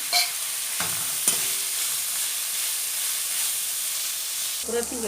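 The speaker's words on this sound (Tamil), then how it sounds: "இப்போ வெங்காயம் போட்டுக்கலாம் இப்போ வந்து வெங்காயம் நல்லா வதங்கட்டும்" Thin, long-sliced onions sauté in a pan for a soybean fry, giving a continuous close sizzle and hiss with a few spatula scrapes and a clatter near the end.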